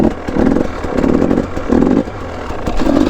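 A dirt bike in first gear during wheelie practice, its engine revving in four loud surging bursts with brief dips between them, close and without talk.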